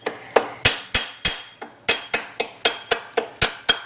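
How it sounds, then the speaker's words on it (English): A welding hammer strikes metal on a 1956 Ford Fairlane's front suspension during bushing replacement, about a dozen loud, sharp, ringing blows at a fairly steady, quick pace, close up and with no talking. "I'm gonna use the welding hammer."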